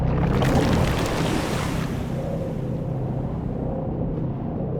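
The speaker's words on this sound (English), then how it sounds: "the Alliance's camp disappeared under waves of water with a very satisfactory gurgling" Water from a burst dam floods a camp in Dungeons 2, a loud rushing, gurgling wash that surges at first and then slowly fades into a softer swirling hiss.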